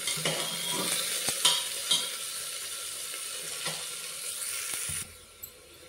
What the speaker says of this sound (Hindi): अब हम प्याज को सुनहरा भून लेंगे।